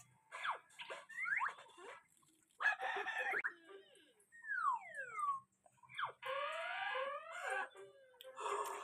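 Chickens at a chicken farm give a run of close, loud calls and crow-like squawks in short bursts with brief pauses between them.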